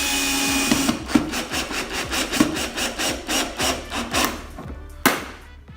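Electric drill on slow speed boring through plastic, a steady series of rhythmic grinding, scraping pulses close up, with a sharp knock near the end.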